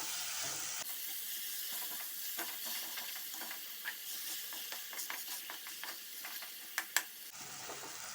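Egg frying in a pan: a steady close sizzle and hiss with scattered small pops and a couple of sharper crackles near the end, continuous and unaccompanied by voices.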